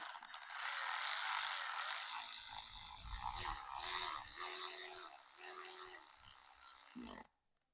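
A hand ratchet spins a bolt down to the bottom while fitting heads on an EJ253 engine swap, giving rapid close clicking bursts in several short runs, with some faint background noise and little talk.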